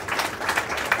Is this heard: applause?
yes